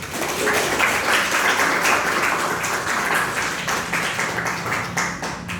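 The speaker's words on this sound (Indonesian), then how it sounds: "Tepuk tangan dulu untuk kelompok 1." A class applauds a student presentation group in a lecture, with steady, dense clapping from many hands that fills the room for several seconds.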